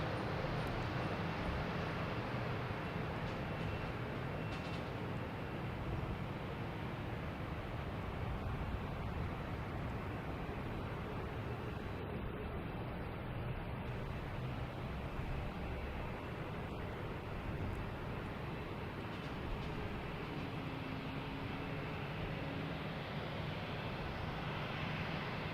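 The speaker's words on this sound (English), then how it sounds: "next coming in, we have a JetBlue coming in from Wilmington. A A220" A JetBlue Airbus A220 arriving at Boston Logan Airport produces a constant, loud, broadband jet roar that fills the whole stretch without breaks, heard at close range with no voices.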